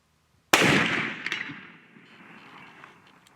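A Hankins custom smokeless powder muzzleloader fires a 185 grain XTP bullet at a steel gong target 185 yards away, giving one sharp, loud blast that rolls into a long fading echo with faint taps of the hit.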